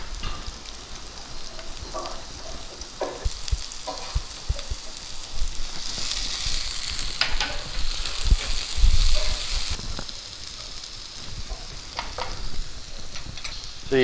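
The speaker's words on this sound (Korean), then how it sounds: "처음에 강불로 볶아주시다가요, 저희 파마늘, 생강 썰어 놓은 거 다 넣어주신 다음에 약 중불로 줄이겠습니다." Scallion, garlic and ginger are stir-fried over high heat for a vegan shiitake mapo tofu, with a steady sizzle and repeated scraping stirs that swell into a louder, hissing stretch midway.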